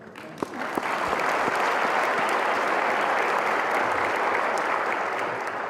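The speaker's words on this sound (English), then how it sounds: "extend another round of applause for Dr." Sustained audience applause at a scholars' anniversary luncheon honoring Dr. Smith and his family, a dense, even roar of clapping that swells in and holds steady.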